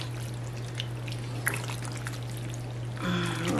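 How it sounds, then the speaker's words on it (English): Water poured into a pot of broth as it is being made, a steady close pour over a constant low hum, with a brief splashy burst toward the end. "we added 3 quarts of water to this"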